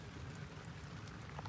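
Steady rain falling in the Alaskan backcountry during a Dall sheep hunt, a soft continuous patter with scattered drops, faint and without voices.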